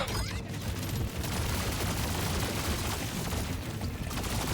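Enemy gunfire in the video game Deep Rock Galactic Survivor: a dense, relentless barrage of rapid shots and blasts, loud and continuous for the whole stretch with no pauses.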